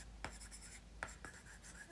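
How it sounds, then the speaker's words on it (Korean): A stylus scratches across an iPad fitted with a paper-texture screen film, making soft, close, papery strokes with a few sharper taps, quiet and without speech. "아이패드에 종이질감 필름 붙여놓은 것 같은 소리다"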